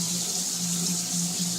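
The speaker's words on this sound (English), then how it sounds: "we're going to take our pot, add cold water." Cold tap water runs steadily into a cooking pot for Spanish rice, a continuous close hiss of flowing water with a faint low hum underneath and no talking.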